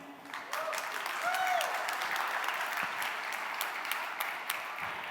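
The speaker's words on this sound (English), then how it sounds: "So a round of applause maybe for JSConf EU team." Applause from a tech conference audience at JSConf EU 2019 fills the hall, steady, fairly soft clapping from a large crowd heard from a distance, with a few brief tones and sounds mixed in.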